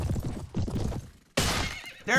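A horse neighs in a Mount and Blade Warband battle, a loud close whinny amid clattering hooves, followed by a sharp burst of impact noise and another brief cry.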